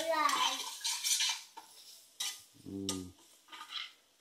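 A spoon stirs and scrapes as potato fry roasts in a pan, producing soft scraping and light metal clinks in short separate bursts, with a brief voiced sound in between.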